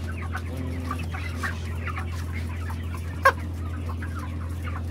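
Broiler chickens from a controlled shed clucking softly as they are handed over for sale, over a steady low hum with one brief sharp knock, no talk.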